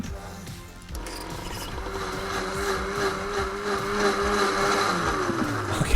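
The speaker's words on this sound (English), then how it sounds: "We're gonna click on the blender, and we're gonna activate the blender." A blender in the Decentraland video game builder whirs up to a steady, continuous motor drone with a mechanical rattle, rising slightly in level and running for several seconds with no talking.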